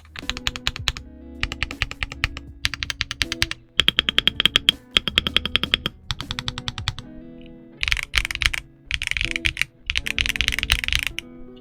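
Someone types on a Redragon Nova K709 wired 65% mechanical keyboard with stock switches: bursts of crisp, clacky keystrokes separated by short pauses, close and clear.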